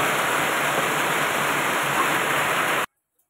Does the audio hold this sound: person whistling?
no